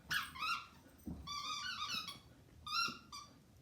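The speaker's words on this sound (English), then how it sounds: "carries around this little tiny squeaker. You can't even see it. That's how small it is." A dog's very small squeaker toy gives repeated high, thin squeaks in short bursts, fairly close and alone with no talking.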